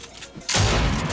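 Gunfire in the Fortnite video game: a quieter opening, then a sudden loud burst of shots that sustains as a dense, close barrage until the end.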